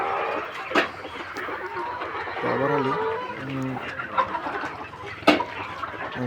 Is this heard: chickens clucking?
yes